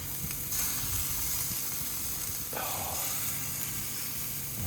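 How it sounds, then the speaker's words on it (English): Steak bits sizzle on a hot plate, a steady close crackling hiss that runs without a break. "The fact that we've got some sizzling happening there, that's just nice to hear."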